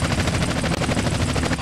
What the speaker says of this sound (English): Chopper on our tail. We'll never shake them now.